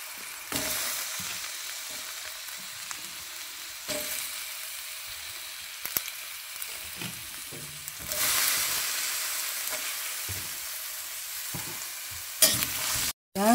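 Chopped onion and garlic sauté in a hot pan, a steady loud sizzle with stirring scrapes that swells and dips in several bursts, ending with a sudden brief cut.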